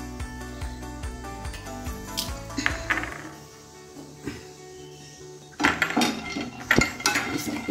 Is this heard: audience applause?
no